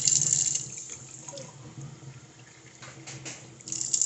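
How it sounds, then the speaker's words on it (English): Cold tap water runs into a sink in Chicago, a faint steady hiss and splash that fades slightly midway and picks up again. "Now, this is my cold water."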